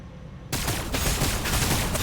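Weapon fire erupts in the video game Warhammer 40,000: Battlesector as Necrons battle Blood Angels, a sudden loud, sustained barrage of rapid shots that starts abruptly and keeps pounding without speech.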